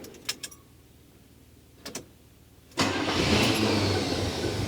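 A 1979 Camaro barn find, long left sitting, gives a couple of faint clicks, then its engine catches and settles into a steady, fairly loud running idle nearby, with no talking.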